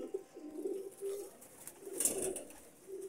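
Teddy pigeons in a breeder's loft coo repeatedly in low, throaty bursts, several overlapping calls near the listener with short gaps between them and a brief brighter chirp midway.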